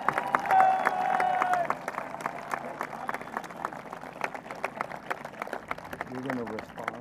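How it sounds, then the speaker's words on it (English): Crowd applause at a commencement ceremony with scattered individual claps, continuing for several seconds and slowly thinning, a voice briefly audible at the start. "Let's give him a round of applause."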